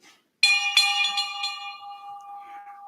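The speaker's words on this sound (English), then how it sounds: "now, as we read those names, ring the bell" A handbell rings at a Norfolk State University freshman convocation, one clear bright strike followed by several quick repeated rings, its metallic tone sustaining and slowly decaying in a quiet hall.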